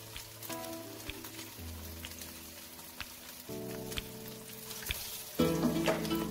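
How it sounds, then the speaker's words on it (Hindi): Chapli kebabs fry in oil with a steady, close sizzle and crackle, joined by a few brief tonal hums and occasional light clicks. "जब आप कबाब तल रहे हैं"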